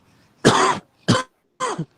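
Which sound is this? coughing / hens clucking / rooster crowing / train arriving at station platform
coughing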